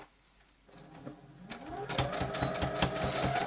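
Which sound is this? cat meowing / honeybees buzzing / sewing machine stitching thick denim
sewing machine stitching thick denim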